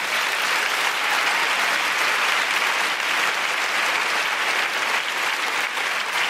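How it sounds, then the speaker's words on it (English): A large theatre audience at the London Palladium applauds, a thick, continuous roar of clapping from a packed hall that stays loud and steady throughout. "Can you please give yourselves a big round of applause?"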